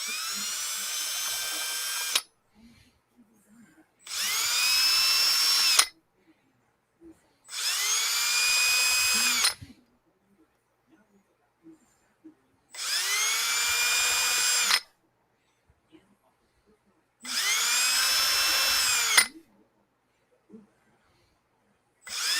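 A Dremel rotary tool whines in five even bursts of about three seconds each, separated by short silences, loud and close with a steady high-pitched motor tone.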